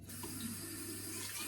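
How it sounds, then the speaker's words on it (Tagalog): A tap runs in a toilet in Norway, pouring a steady, close stream of water into a sink with no break and no talking. "Iinom tayo ng tubig straight from the gripo."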